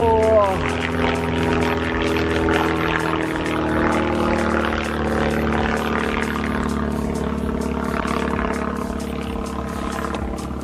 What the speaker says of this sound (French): J'entends un avion, regardez.